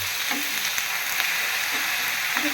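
Orange peel, orange juice and sugar fry in a pan for sweet zarda rice, giving a steady close sizzle with light stirring scrapes and no talking.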